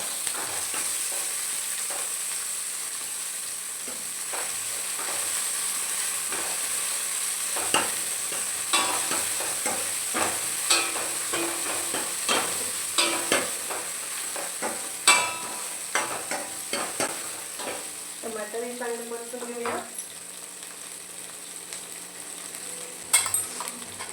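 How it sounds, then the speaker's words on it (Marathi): Finely chopped tomato stir-fried with reddened onion and red chilli in a pan for sambar: a steady sizzle broken by repeated scraping and clacking of a spatula, close and continuous, with no talking. "नंतर आपण टाकूया बारीक केलेलं टमाटर"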